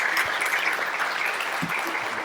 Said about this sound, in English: All right, let's give another round of applause